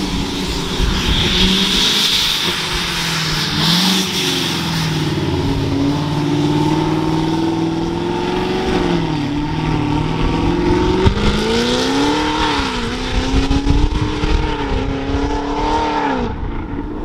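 A boosted Chevrolet Camaro SS engine roars loud and close, holding a heavy droning tone that climbs and dips as it revs and accelerates, continuous for the whole stretch with no talk.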